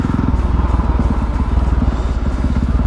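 A KTM 450 EXC four-stroke dirt bike engine runs steadily close by, its rapid, even thumping pulse loud and unbroken throughout.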